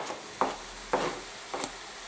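Sweet Italian sausage and vegetables browning in a dry pan with no added oil, heard as three short, soft scraping sizzle bursts from stirring, spaced about half a second apart against a quiet background.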